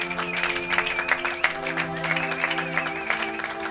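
Steady applause from a church congregation, a continuous wash of clapping with sustained musical tones underneath and a preacher's voice over the top.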